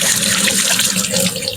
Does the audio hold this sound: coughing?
no